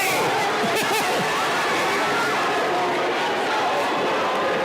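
Crowd noise from spectators at a Missouri high school wrestling dual meet, a loud, continuous roar of chatter and cheering that fills the whole stretch.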